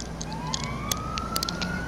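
An emergency vehicle siren in a video game wails faintly in the background, a rising tone under a noisy mix with scattered small clicks.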